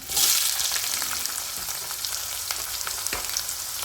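Onions and green chillies hit hot oil in a pan for egg curry, bursting into a loud sizzle that settles into a steady, close frying hiss with a few scraping stirs.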